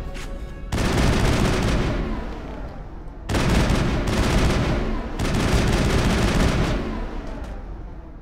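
Sustained bursts of rapid automatic gunfire from squad mates in the Mass Effect video game, loud and dense, coming in three long volleys separated by brief lulls.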